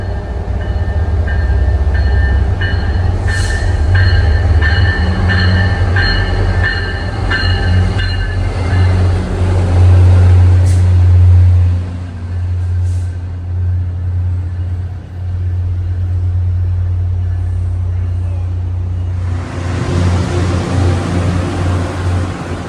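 MBTA commuter rail train 767 with an F40 locomotive, bound for Forge Park at Ruggles station in heavy rain, a loud deep diesel drone and rumble with squealing tones, swelling as it passes and then easing off.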